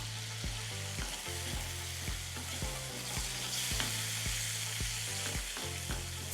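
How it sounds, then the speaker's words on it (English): Chicken and mushrooms cooking in stock in a pan, giving a steady, close sizzle with bubbling underneath and periodic clinks and scrapes of a utensil stirring, continuous throughout with no talking. "I'll just add now the mushroom so that it can cook. Let it simmer, adding a bit of"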